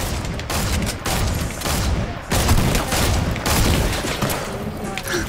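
Continuous loud infantry rifle fire in the Fortnite video game, dense rapid shots with brief gaps, up close and filling the whole stretch.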